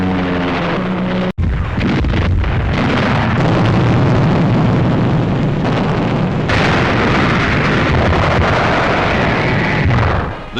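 Bombs and mortar rounds exploding in World War 2 combat footage, a dense, continuous roar of loud blasts and rumbling detonations with a brief cut of silence early on, no voices.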